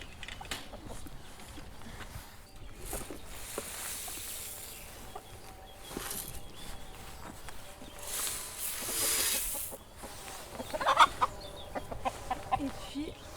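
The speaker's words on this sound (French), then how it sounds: "Les poulets." Chickens cluck and murmur in a henhouse on a small farm, soft scattered calls close by, with creaks and rustling around them and a few louder bursts near the end.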